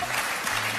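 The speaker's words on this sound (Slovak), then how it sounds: "Tlieskate tanečnému páru" Audience applause for a dance couple on a televised ballroom dance competition show, a steady dense wash of clapping throughout, fairly loud and continuous with no pauses.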